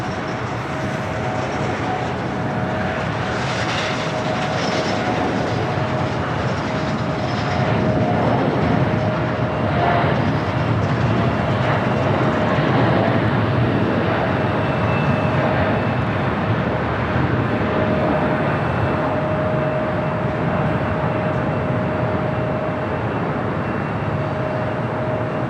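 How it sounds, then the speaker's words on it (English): A United Airlines Boeing 787-9 Dreamliner bound for Newark takes off from the south side runways at LAX, a loud sustained jet roar that swells and holds steadily for the whole stretch with no talk over it. "Next takeoff here on the south side."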